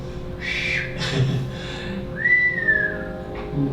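A person whistles a few short notes and then a longer sliding tone, moderately close, over faint background hiss.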